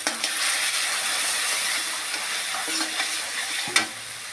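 Masala being sautéed and stirred with chopped tomato in a pan for a Bengali dried hilsa (ilish shutki) dish, giving a steady close sizzle and frying hiss with scattered stirring scrapes and one sharper clink near the end.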